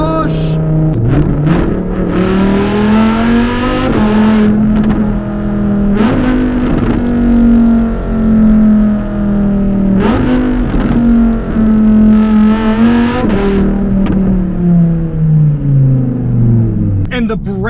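A 2020 Lamborghini Huracan Evo Spyder engine revs hard through several gear changes, its loud, rising howl dropping briefly at each shift before climbing again, close and continuous.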